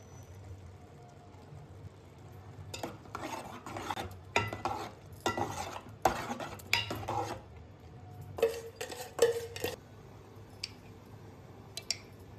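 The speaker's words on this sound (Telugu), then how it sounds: "ముందుగా పాకం చేసుకొని పెట్టుకున్న ఈ బెల్లం లిక్విడ్ని అన్నం పోసుకోవాలి." Jaggery syrup poured into cooked rice and stirred in a pot, quiet background then bursts of scraping, clinking spoon strokes and wet stirring in irregular clusters, fading near the end.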